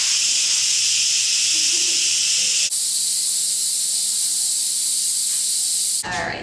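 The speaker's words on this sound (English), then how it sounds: "You never want to put your hand over this because the steam's going to shoot up" Steam blasts loudly and steadily from a pressure cooker's release valve after cooking butternut squash soup, a harsh continuous hiss that shifts slightly partway through and breaks off near the end.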